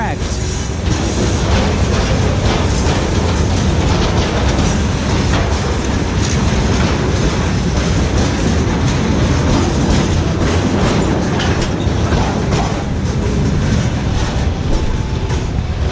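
A locomotive-hauled train passes close by in Tbilisi, with loud continuous rumbling, clickety-clack from the wheels and some squeal, while a voice talks over it.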